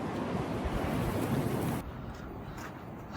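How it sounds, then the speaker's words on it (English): Strong storm wind blowing outdoors in a garden, a loud broadband roar buffeting the microphone that drops to a softer gusting rush partway through. "the wind's really picking up now"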